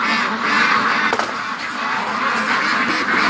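Free-range ducks quacking and honking as a flock is let out of their pen, a dense overlapping chorus close by, loud and continuous with no talk.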